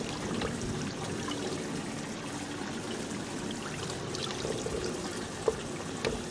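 A small bonsai pot swished around in a tub of water, a continuous soft sloshing and trickling with a couple of light knocks near the end.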